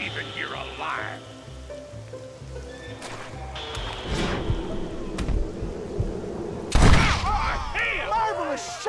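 Gunfire in a Red Dead Redemption shootout, several sharp shots cracking amid horse neighs, hoofbeats and game music, with a loud burst near the end and shouting voices over it.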